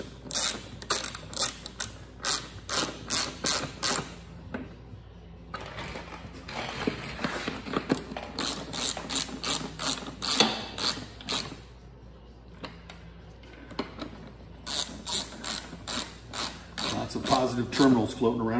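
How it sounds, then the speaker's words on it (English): A hand ratchet tightens bolts on the terminals of a Ryobi 48V battery pack during a cell swap, in bursts of rapid close clicking separated by pauses, with a few quieter creaks and shuffles between the runs. "I'm not using the full leverage of the ratchet to tighten it"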